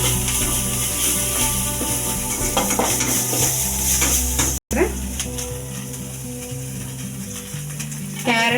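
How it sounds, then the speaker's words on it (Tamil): Chopped onion fries in a pan with salt and ginger garlic paste for egg fried rice, giving a loud, steady sizzle with spoon-stirring scrapes and clinks throughout and one brief cut-out midway. "கொஞ்சமாக இஞ்சி பூண்டு பேஸ்ட்டு இந்த மாதிரி நல்லா ஃப்ரை பண்ணிக்கணும்"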